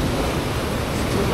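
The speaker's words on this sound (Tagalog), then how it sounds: "Lakas talaga ng alon." Strong sea waves off a Philippine coast rush and roar in a dense, loud, steady wash of surf noise, with no clear voices.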